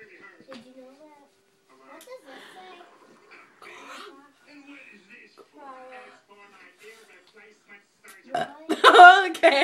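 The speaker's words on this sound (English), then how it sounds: "time to burp her" A baby girl gives a big, loud burp near the end after quiet adult talk, being burped after a feeding during a night routine at home.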